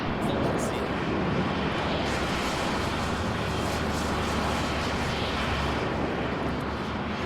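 A jet aircraft engine in the military game Arma on Stratis gives a steady, loud, broadband roar for the whole stretch, with voices talking beneath it.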